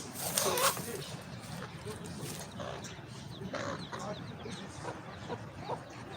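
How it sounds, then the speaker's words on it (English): Baby chickens cluck and peep outdoors in short, scattered calls, with other faint ambient noise and a soft rustle early on. "let me show you the baby chickens"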